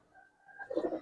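A domestic pigeon among fancy pigeons kept for sale gives a short, low, throaty coo that swells near the end after a faint quiet stretch; close and fairly soft, with no talk.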